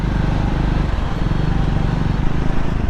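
Continuous Triumph Scrambler 400 X motorcycle engine drone while riding, a loud throbbing low rumble with steady pulsing beats, close and constant throughout.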